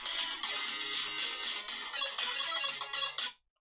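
A phone rings with a bright, buzzing electronic tone, pulsing in short bursts for a few seconds before cutting off abruptly. The call is one of many spam calls.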